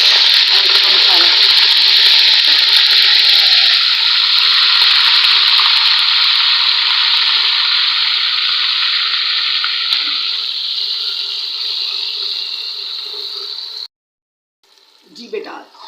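Loud, steady sizzling of onions and masala frying for a green Bangda fish curry, constant and close for most of the stretch, slowly easing before an abrupt cut to near silence and a brief clatter.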